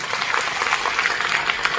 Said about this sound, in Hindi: मैं चाहूंगा इनके लिए जोरदार तालियां।